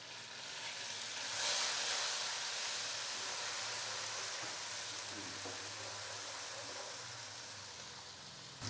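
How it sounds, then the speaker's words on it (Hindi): Chopped green chillies frying in hot oil with garlic, a steady soft sizzle and hiss that swells briefly early on, then settles into a gentle continuous crackle. "सब्ज़ मिर्चों को हमने हल्का सा फ्राई कर लिया है।"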